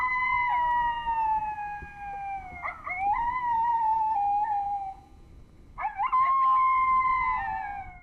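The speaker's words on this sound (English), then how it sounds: "Playing the pup serenade on the alpha dog." An electronic coyote pup serenade call plays loud and close: wavering, sliding howls in two long bursts separated by a short pause.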